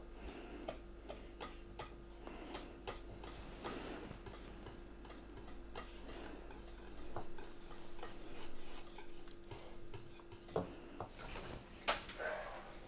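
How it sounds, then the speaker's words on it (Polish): Basque cheesecake batter is stirred in a bowl while cream is poured in, a continuous soft scraping and swishing with occasional sharper clinks of the utensil against the bowl, close and fairly quiet, without talk. "Śmiało mieszaj, ja Ci będę dolewała śmietanki."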